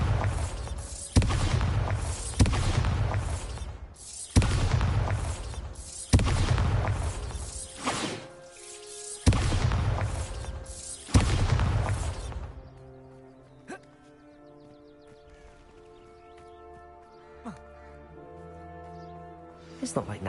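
Bombarda spell blasts in Hogwarts Legacy, a series of about six loud, broadband booms in quick succession, each with a short rumbling tail, before the scene drops to quiet music.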